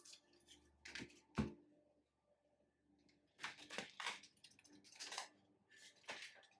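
A deck of tarot cards is shuffled in a few separate bursts of soft, papery riffling and tapping, fairly quiet and close, with pauses between the rounds.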